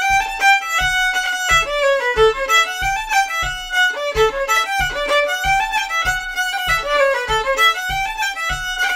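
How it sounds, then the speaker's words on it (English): Solo fiddle plays the third part of an old Cajun tune from Dennis McGee, a brisk, steady melody of quick bowed notes with a regular pulse, close and clear with no voices. "So the third part of the Dennis McGee tune sounds like this."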